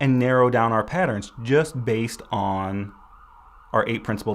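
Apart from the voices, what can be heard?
No distinct noise like a dog, phone or traffic.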